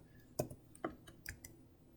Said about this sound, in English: I'm going to type some numbers in.